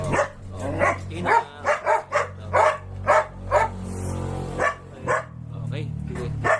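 Several dogs bark in repeated bursts at a kennel in Bulacan, close and fairly loud, with people talking throughout and a quieter whimpering stretch near the end.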